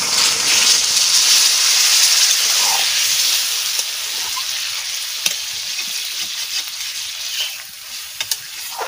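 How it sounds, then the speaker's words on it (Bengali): Water poured into a hot pan of spiced duck curry hisses and sizzles loudly and steadily up close, the steam slowly easing, with a few faint clicks toward the end. "কষানি হয়ে গেছে, এবারে আমি জল ঢেলে দিচ্ছি।"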